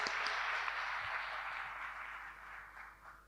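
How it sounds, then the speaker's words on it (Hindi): An audience claps for a woman at a cooperative dialogue gathering in Ahmedabad, Gujarat: a dense, steady wash of many hands that starts full and slowly thins and softens toward the end, with no voices over it. "ताली सब- बजाओ इनके लिए सभी लोग"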